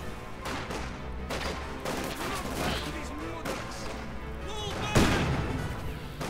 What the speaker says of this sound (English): Nice rifle grenade there.